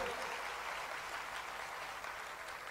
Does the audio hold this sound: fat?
no